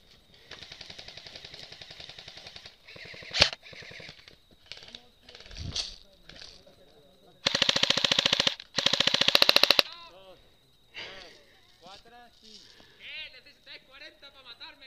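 Repeated gunfire from a Spanish-language game, with short single shots and rapid bursts that crackle loud and close, broken by pauses and mixed with other effects.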